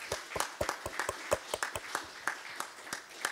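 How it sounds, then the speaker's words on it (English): Sparse applause from a church congregation at a Sunday service, individual claps distinct and irregular rather than a dense roar, moderately close and steady over a few seconds with no talking. "Let's give her a big round of applause."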